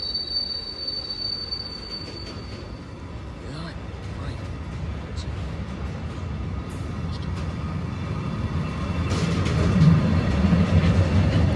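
A Class 70 diesel-hauled train pulls away from a stop with loud, continuous wheel squeal, a high shrill tone over a heavy rumbling roll that builds steadily in loudness.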